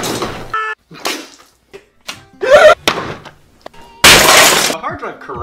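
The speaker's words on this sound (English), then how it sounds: "Destroy the game console." Game console being smashed in a rapid burst of cracking, crunching and shattering impacts, loud and close, intermixed with snippets of speech and a final sustained crash.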